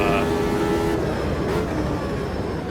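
A race car engine in the sim racing game Automobilista 2 drones loud and close with layered harmonic tones, shifting pitch as the revs change. A voice talks faintly underneath.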